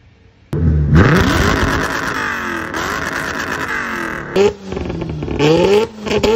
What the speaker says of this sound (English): 1990 Nissan 240 SX versus 1993 Mazda RX-7. What sounds better?